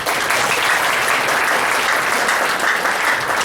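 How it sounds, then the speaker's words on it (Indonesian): Loud, dense applause from a crowd thanking a teacher at a gathering, many hands clapping in an unbroken, even roar from start to finish, close and full. "beri kasih tepuk tangan"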